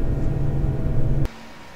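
Airbus A320 engine two spooling down at the gate, a steady low rumble that cuts off abruptly with a faint click, leaving only quiet cabin hum.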